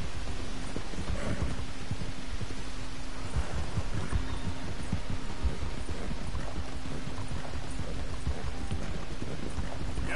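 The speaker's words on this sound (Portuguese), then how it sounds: "O cavalo ficou devagar." A horse's hooves clip-clop steadily at a slow pace in Red Dead Redemption 2, a dense, continuous patter of low thuds under a faint hum, with no talking.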